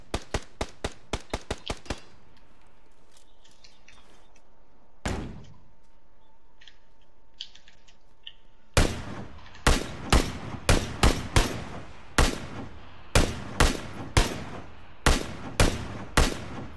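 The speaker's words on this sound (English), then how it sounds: "Are you shooting?" Gunfire in the PUBG battle royale game on PS4: a rapid burst of sharp, loud shots, a lone shot after a pause, then a steady series of single, evenly spaced reports, each with a short ringing tail and no voices.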